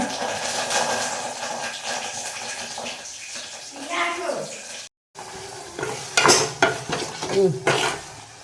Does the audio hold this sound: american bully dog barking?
no